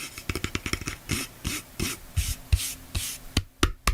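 Hands handling the full aluminum body of a portable Bluetooth speaker, giving quick taps, rubs and scraping knocks in an irregular rhythm, close and fairly faint with no talk.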